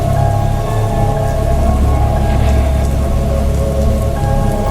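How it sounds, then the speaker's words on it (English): Heavy thunderstorm rain pouring steadily on outdoor surfaces, a loud, dense, unbroken hiss of drops with a low rumbling undertone throughout and no voices. "I really love thunderstorms."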